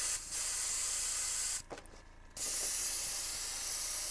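An airbrush from an affordable kit sprays compressed air with no paint coming through, a steady close hiss that briefly cuts out midway before resuming.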